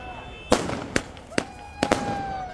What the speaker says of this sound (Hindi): जिसके बाद बारामूला में जमकर आतिशबाजी की गई।